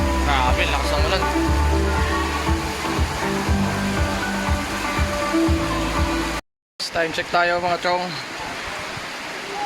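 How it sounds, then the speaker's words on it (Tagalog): Heavy rain roars as a loud, continuous wash over a covered court at a school graduation ceremony setup, with someone talking over it and a brief dropout near the end. "Grabe, lakas ng ulan"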